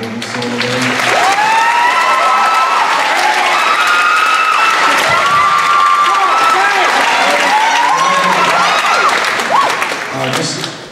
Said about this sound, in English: We get another round of applause for Miranda Feeder on the beautiful organ solo there.